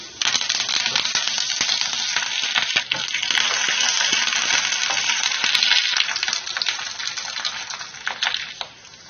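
Hot oil crackles and spatters with dense popping as spices, cashews and curry leaves fry, steady and close, fading slightly at the end.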